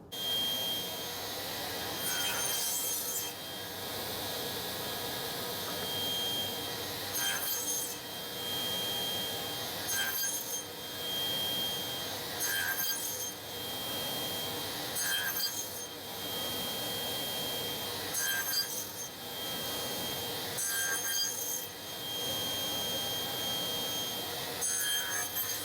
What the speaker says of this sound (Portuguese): Agora, de volta para a serra de bancada, vamos fazer a configuração para fazer a remoção desse material aqui.